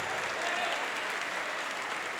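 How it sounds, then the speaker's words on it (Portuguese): A church congregation applauds during a Portuguese-language evangelical service, a steady, dense wash of clapping from many hands that carries on without break, filling the room at moderate distance. "Vamos aplaudir mais ao nome de Jesus."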